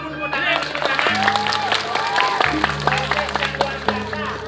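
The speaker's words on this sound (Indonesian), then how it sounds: "Tepuk tangan." An audience at a Balinese Drama Gong performance applauds, a loud, continuous burst of clapping layered over sustained music tones and crowd voices.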